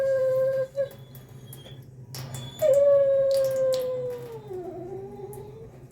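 An anxious dog in a veterinary dog ward howls close and loud, giving a long rising and falling wail with brief breaks and whimpering catches, alone with no talk.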